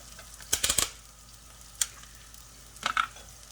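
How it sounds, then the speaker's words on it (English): Stir-frying General Tso chicken sauce with ginger and garlic in a hot pan, a few quick bursts of spatula scraping and sizzle clustered at the start, another single scrape midway and a final flurry near the end, over a quiet low hiss. "Stir fry a little bit until aromatic"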